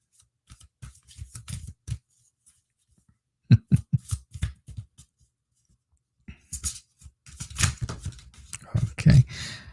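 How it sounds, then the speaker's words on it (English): Tarot cards are shuffled and riffled in short crisp bursts of flicking and snapping, close and fairly quiet, with pauses between bouts and a busier stretch near the end. "People think I don't shuffle well"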